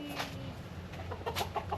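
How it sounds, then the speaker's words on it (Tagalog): Chickens clucking softly at a distance, a few short clucks scattered over a quiet background. "Andyan yung manok"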